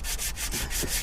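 Rhythmic back-and-forth sanding of a VW PD diesel cylinder head with 180 grit abrasive paper, a steady close scratchy rubbing with repeated strokes and no talking.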